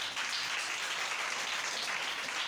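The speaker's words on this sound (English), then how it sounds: "can you clap for them?" A school quiz audience breaks into applause, a steady wash of many hands clapping that stays even and sustained for a couple of seconds.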